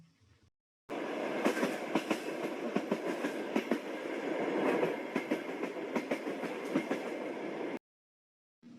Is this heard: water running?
no